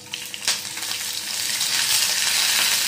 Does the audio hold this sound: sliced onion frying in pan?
yes